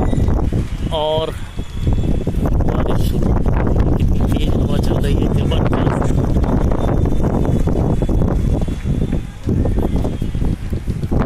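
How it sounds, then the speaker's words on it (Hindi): Strong evening wind sweeps Meerut under dark storm clouds, a loud, continuous buffeting roar rushing over the microphone while a voice talks throughout. "जबरदस्त हवा इस समय"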